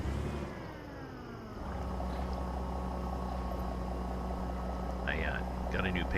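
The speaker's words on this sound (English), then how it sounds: "I like the sound of this engine" Truck engine in American Truck Simulator drones steadily at a low pitch, shifting down in tone early and then holding an even rumble, with someone talking over it.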